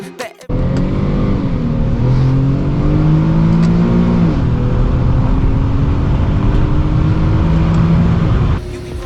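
An Infiniti G37XS drives through downtown, its engine droning steadily from inside the cabin, with pitch climbing and easing across a couple of shifts, loud and continuous after a brief sharp start.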